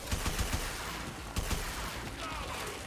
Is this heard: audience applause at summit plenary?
no